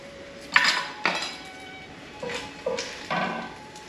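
Fried bacon being lifted out of a pan with metal utensils, several sharp clinks and scrapes against the pan spaced irregularly, close and fairly loud with no talking.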